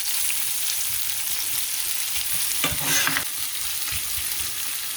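Onion sizzles in oil in a pan on a stove set to low, a continuous close frying hiss with a brief stir or scrape in the middle.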